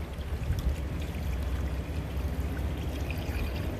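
Sugar syrup poured into a beehive feeder box in spring, a steady continuous liquid pour lasting the whole stretch, close and fairly even in loudness.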